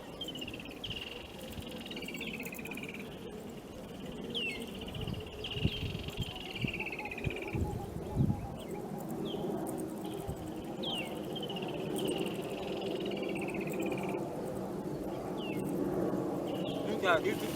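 A Woodland Kingfisher call is played back in Ghana. It is a series of repeated, descending trilling calls over a steady bed of insect chirring, with low background rumble underneath.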